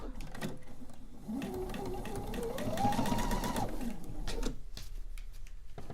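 A sewing machine stitches pieces of a quilt together, a steady mechanical whir rising for a few seconds and then easing off, close up, with light handling noise around it.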